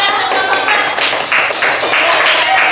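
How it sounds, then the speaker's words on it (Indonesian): Schoolchildren in an elementary classroom applaud a group after its pantun reading, a few seconds of rapid, close clapping with voices mixed in. "Tepuk tangan untuk kelompok"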